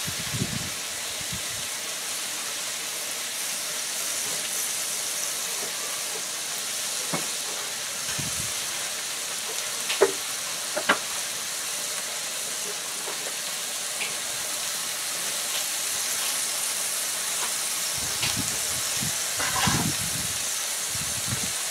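Soft, steady sizzling hiss of pre-cooked noodles and pork frying on a hot griddle plate, low and continuous, with occasional clinks and scrapes of utensils.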